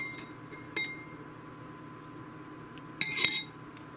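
A spoon clinks and scrapes against a container while clearing out the last of the black food coloring, with a light tap near the start and a brighter, busier cluster of metallic clinks toward the end, close and fairly quiet.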